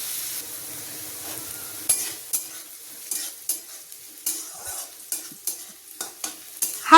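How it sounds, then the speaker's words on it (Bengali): Yardlong beans and carrot stir-fried in a pan, repeated spatula scrapes and tosses over a steady sizzle, close up with no voices. "হালকা লাল লাল করে আমি বরবটি আর গাজরটাকে ভেজে নিয়েছি।"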